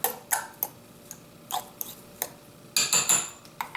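Finely chopped onions being mixed in a bowl, with scattered clinks and taps of a utensil against the dish, irregular and fairly close.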